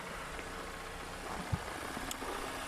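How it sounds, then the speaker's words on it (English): A 2017 Mazda CX-9 engine idles quietly and steadily with the hood open, a low, even hum at a fair distance with a couple of faint clicks over it. "So engine sounds good."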